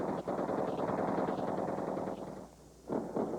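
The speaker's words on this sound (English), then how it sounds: "Thousands of bullets were fired into the air." Celebratory gunfire in Baghdad, bullets fired into the air at the close of the Gulf War, heard as continuous rapid automatic bursts with echo, dense and steady, briefly pausing before resuming, no talk.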